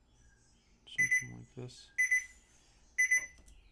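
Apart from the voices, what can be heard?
alarm clock ringing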